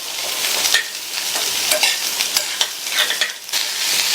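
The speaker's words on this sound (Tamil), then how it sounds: "இந்த பீன்ஸை எண்ணெயிலேயே ஹை ஃப்ளேமில் வச்சு ஒரு 2 நிமிஷத்துக்கு வதக்கிக்கலாம்." Green beans stir-frying in oil over a high flame for a Tamil beans poriyal, a steady close sizzle broken by repeated scraping stirs of the spatula.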